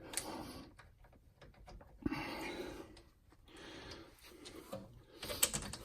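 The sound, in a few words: ratchet tightening brake caliper bolts, Hyundai Elantra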